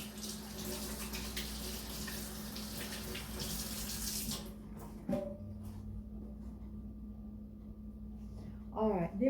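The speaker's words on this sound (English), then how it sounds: "Okay, wash hands again." A kitchen tap runs steadily while hands are washed under it, a continuous close hiss of water that cuts off partway through, followed by a few small knocks and a brief sound near the end.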